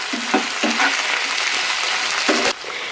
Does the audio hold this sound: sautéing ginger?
yes